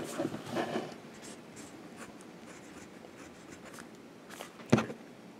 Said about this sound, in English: let's do some writing with the pen.